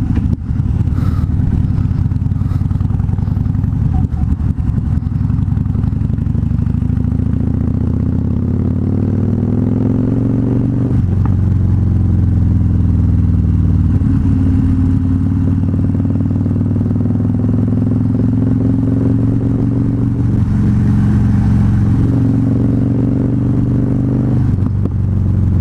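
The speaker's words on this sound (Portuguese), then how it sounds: "Andar com a moto com esse barulhão aqui já é uma terapia." A 2013 Harley-Davidson Fat Bob's engine rumbles steadily and loudly while riding, a deep, continuous low throb with slight swells in revs and no talking.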